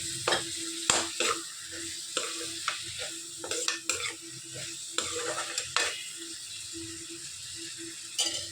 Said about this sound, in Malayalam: ഈ സവോള നന്നായിട്ടൊന്ന് വഴണ്ട് വരട്ടെ